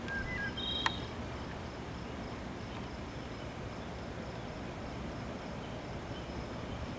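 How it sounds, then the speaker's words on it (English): Crickets chirp faintly in a steady, far-off drone on a quiet, foggy summer night around nine o'clock, with a brief bird-like chirp near the start and no voices. "Apart from those crickets and some birds, it's so quiet out here."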